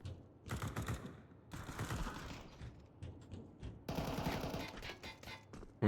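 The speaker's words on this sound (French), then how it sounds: "Ok, on me tire dessus, là." Bursts of rapid automatic gunfire in the video game Counter-Strike come in several separate volleys with short pauses between them. They sound close and sharp.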